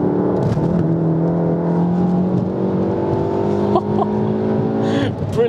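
Manual Volkswagen Golf R fitted with a Wavetrac limited-slip differential, revving high on a race track, a loud steady engine drone climbing in pitch under a driver's talk.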